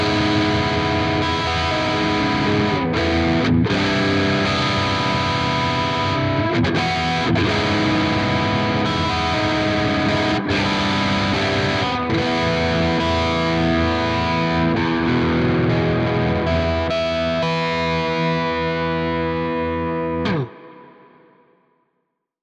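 Distorted electric guitar plays sustained chords and riffs drenched in a shimmering, modulated reverb, then cuts off abruptly and the wash fades away.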